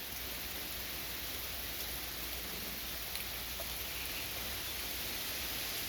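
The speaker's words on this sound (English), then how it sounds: "Because the rain just cools everything down." Steady rain falls at the start of a storm, a continuous even hiss with no separate drops standing out, moderately quiet and unbroken throughout with no voices.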